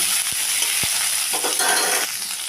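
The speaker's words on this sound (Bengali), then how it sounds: "কড়াইতে যেটুকু তেল আছে এই তেলের মধ্যে টমেটোটাও দিয়ে দিলাম, দিয়ে একটু নরম করে নেব, ভেজে নেব।" Chopped tomatoes sizzle in hot oil in a wok, a steady bright hiss with a couple of sharp clacks from a stirring utensil and no talk.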